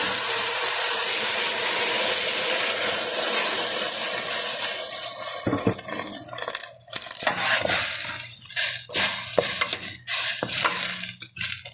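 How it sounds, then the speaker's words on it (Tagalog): Water pours steadily into a pot with a bright rushing splash for several seconds, then gives way to clinks, scrapes and stirring sounds. "Tapos lagyan ko na tubig."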